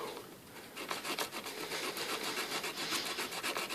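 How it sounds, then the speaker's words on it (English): Sandpaper of 180 grit scrapes back and forth over a front suspension part, a close, steady rasping rub with rhythmic strokes throughout and no talk. "And it just sands it down."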